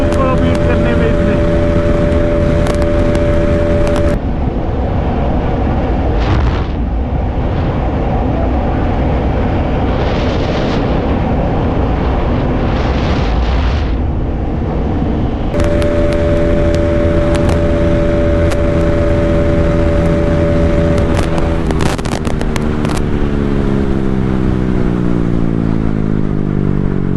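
KTM Duke 200 and Bajaj Pulsar NS200 motorcycles drag racing, engines droning loud and close with wind rush, dropping briefly quieter mid-run before surging again and climbing through gears.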